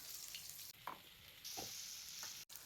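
Quiet sautéing in a pan while cooking okra kara kuzhambu, with a low continuous sizzle broken by a few soft stirring scrapes and a small clank at the end.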